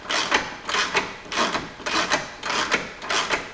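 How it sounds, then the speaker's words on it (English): A wrench snugging an 11/16 bolt and nut during track bar and wheel work on a vehicle, heard as six evenly spaced ratcheting rasps, each about half a second long, close and steady with no talk. "The bolt and the nut are going to be 11/16, so I'm going to snug this up."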